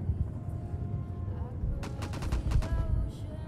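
Video game weapon fire, a quick burst of rapid gunshots in the second half over a low rumbling game background, fairly loud and close.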